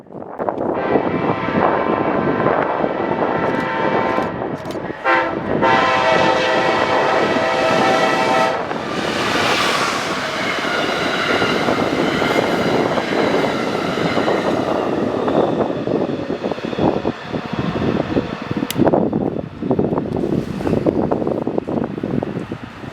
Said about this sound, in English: The next train that would sneak up on us would be Amtrak 63 going to Toronto.